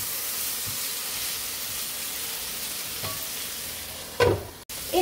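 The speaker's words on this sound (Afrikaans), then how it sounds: "En dan gaan ek hierdie braai tot die green peppers 'n bietjie sag is." Green peppers frying in olive oil in a pan while cooking a one-pan chicken and macaroni dish, giving a steady soft sizzle throughout, with a brief louder crackle and stir near the end.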